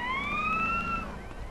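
Police car siren in a GTA street scene, a single clear rising-and-falling wail sweeping past at moderate distance and fading out, with low traffic rumble beneath.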